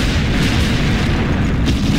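A grenade explodes in the video game XIII as a loud, dense boom that fills the whole moment with a heavy, sustained rumble and no clear onset or pause.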